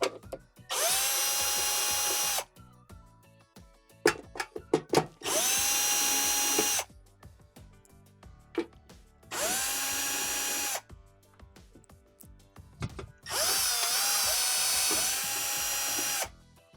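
Power drill backing screws out of the top inner cover of a Whirlpool washer, four separate bursts of whirring motor a few seconds each, with clicks and handling noises in the pauses between.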